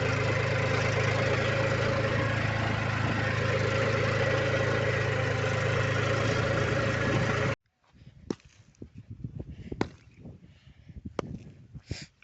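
A tractor engine drones steadily at close range in a farm field of clods, a constant mid-low rumble that cuts off abruptly, followed by scattered sharp knocks and thuds.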